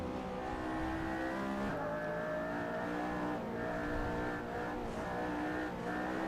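A Ferrari LaFerrari or McLaren P1 at full throttle around the Nordschleife in Assetto Corsa, with a loud, steady high-revving engine note that drops briefly at a gear shift before climbing again, with no talk over it.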